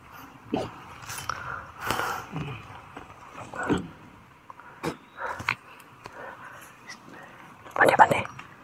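A dog at close range gives scattered barks and yips, with a louder burst near the end, mixed in with people talking over it.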